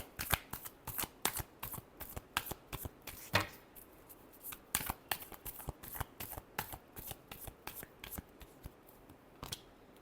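Tarot cards are shuffled by hand close up, making quick, crisp riffling bursts and slaps in an uneven rhythm that repeats throughout, with no other sound competing.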